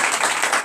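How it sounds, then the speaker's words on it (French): Church congregation clapping and cheering together at a service, a dense, steady wash of applause filling the short moment without a break. "donner de vives acclamations à"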